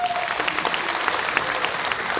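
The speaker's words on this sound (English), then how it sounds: "that does deserve a huge round of applause" Audience applause at a real estate brand's corporate event, a steady sustained clapping from a large crowd lasting a couple of seconds.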